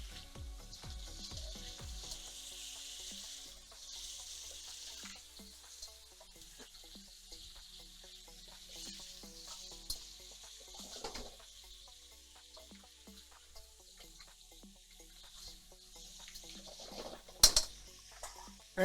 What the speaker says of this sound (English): So we want to fry these for about, eh, I'd say about between 3 and 5 minutes.